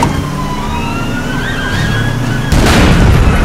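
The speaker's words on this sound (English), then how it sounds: "Sirens off." A police car siren in a chase-themed video game wails loudly and steadily with rising and falling tones, then a sudden burst of broadband noise cuts in partway through.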